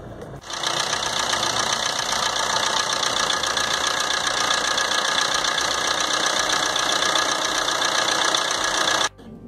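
A Maruti Suzuki Swift Dzire engine turns over and settles into a steady, rumbling idle for several seconds before cutting off abruptly.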